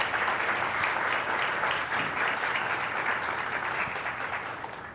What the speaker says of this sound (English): I just want everybody to give a round of applause for our fantastic panelists.